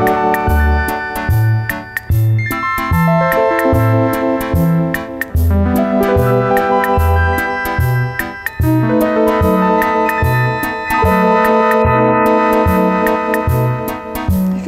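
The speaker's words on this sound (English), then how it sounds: "They call it the harp because it sounds" Suzuki Omnichord OM-84 harp strip strummed over a steady electronic bass and chord pattern, bright shimmering arpeggio sweeps repeating loudly and continuously, with no voices.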